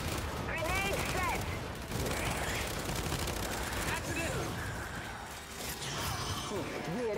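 Gunfire in the video game Gears 5, dense rapid bursts of shots running nearly nonstop amid mechanical clatter and combat noise, with in-game voices and shouts mixed through the busy firefight.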